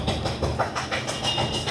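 Constant loud mechanical rumble from nearby metro construction works, with rhythmic clattering pulses like rail traffic, filling the background without speech.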